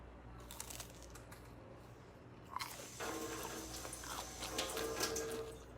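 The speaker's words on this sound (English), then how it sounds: "And then it's got such a nice crunch." A crunchy vegan chicken sandwich is bitten into, giving a sharp crisp crunch midway through followed by brief crackly chewing, close and fairly quiet over a low background hum.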